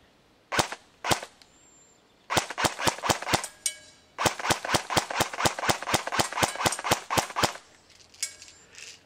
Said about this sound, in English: So let me give it a couple of shots on semi, see what we can get here.